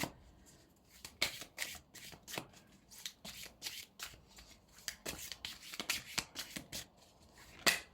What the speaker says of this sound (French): Alors j'ai envie de tirer une autre carte là.